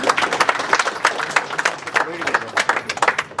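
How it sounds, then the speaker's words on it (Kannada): An audience at a Kannada film trailer launch event claps in a dense, steady burst of applause, with voices mixed in among the clapping. "ದಯವಿಟ್ಟು ಚಪ್ಪಾಳೆ"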